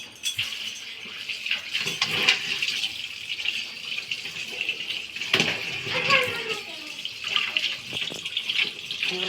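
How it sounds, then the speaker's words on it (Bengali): Water runs steadily from a tap while a crab is washed underneath it, with splashing and occasional rattles. A person speaks intermittently over the flow. "এখন কাঁকড়াটাকে সুন্দর করে ধুয়ে নেব"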